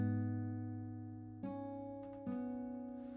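Acoustic guitar fingerpicking: two bass strings plucked together, then a high string and a middle string, with new plucks near 1.4 and 2.3 s ringing over sustained notes, close and clean with no talking.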